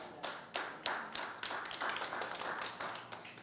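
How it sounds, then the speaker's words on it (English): Applause from a small audience at a live body language show, a few hands clapping in a quick, uneven patter that builds and holds steadily, fairly close and moderately loud, with no talking over it. "give her a big round of applause"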